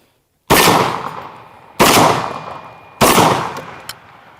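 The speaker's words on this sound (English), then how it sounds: "This is an Ithaca Mag 10 semi-automatic 10 gauge shotgun." An Ithaca Mag 10 semi-automatic 10 gauge shotgun fires three loud, booming shots about 1.3 seconds apart, each followed by a long ringing decay, with no talking.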